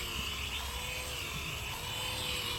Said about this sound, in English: He is flying his helicopter